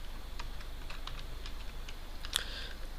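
Keys on a computer keyboard are tapped in short irregular bursts, light clicks heard close in a quiet room with a faint background hiss, no talking.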